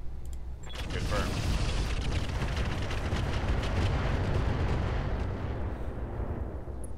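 Incendiary weapons fire in the mech game Roguetech, building into a dense, continuous roar of blasts and rumbling explosions that holds loud and steady for several seconds.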